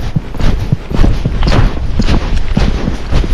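A Tennessee Walking Horse canters, its hoofbeats thudding close and loud in a steady rolling three-beat rhythm that continues without pause.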